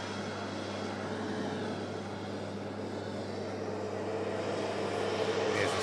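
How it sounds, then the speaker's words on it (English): A SmartLynx airliner taxiing at an airport gives a steady low engine drone with a constant hum, moderately distant, swelling slightly toward the end. "SmartLynx just taxiing past us."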